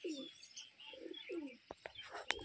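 Pigeons cooing in low, soft rolling phrases, three coos in quick succession, followed by a few sharp clicks and light rustles nearby.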